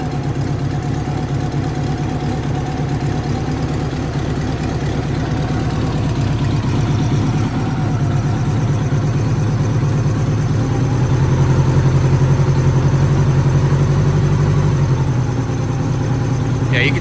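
A Honda Goldwing GL1200 engine idles after an alternator swap, a steady low throbbing rumble that rises slightly in pitch and loudness partway through, with someone talking over it.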